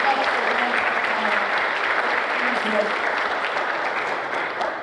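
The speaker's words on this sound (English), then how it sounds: "give yourselves a round of applause" A crowd at a high school JROTC military ball claps steadily and loudly, a dense wash of applause that holds throughout and fades slightly at the end.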